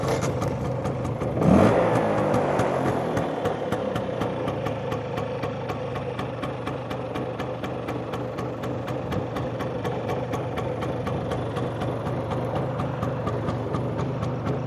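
An LML Star Deluxe 2T scooter with a warm two-stroke engine is kickstarted without choke, catching with a sharp burst and then idling in a steady, rapid ticking putter.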